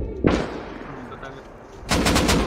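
Gunfire in the survival video game Rust: a sharp shot near the start, then a rapid burst of several shots near the end, with a voice faintly present underneath.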